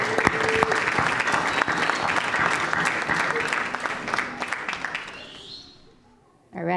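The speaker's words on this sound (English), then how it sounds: "Give him an applause off his turn." Audience applause at a school board of education meeting, loud sustained clapping with some cheering for several seconds, then fading out before a voice starts speaking.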